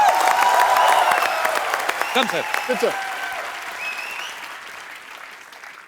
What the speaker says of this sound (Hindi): जोरदार तालियां यार, जोरदार.